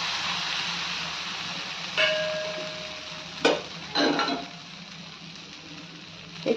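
Thin rice flour ghavan batter roasting on a hot pan gives a steady, close sizzle with brief louder crackles and clatters of utensils now and then.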